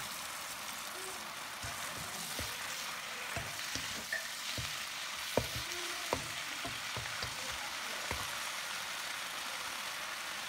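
Spinach stir-frying in a pan makes a constant soft sizzle, cut by repeated sharp knocks and scrapes of a spatula against the pan.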